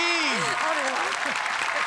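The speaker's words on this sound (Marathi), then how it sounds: "जोरदार टाळ्या त्यांच्यासाठी." A burst of clapping from a TV comedy show audience welcoming a guest on stage, with a voice speaking over it.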